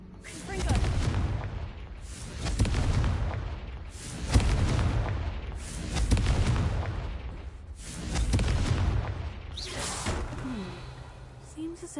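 Confringo blasting spell in a magic video game, sounding as repeated booming bursts roughly every two seconds, each a loud crackling explosion that swells and fades, with faint background sounds between blasts.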